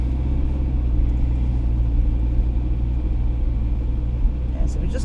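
A car drives along a town road near South Shore, Blackpool, heard from inside as a steady low engine rumble and road noise with no sharp changes.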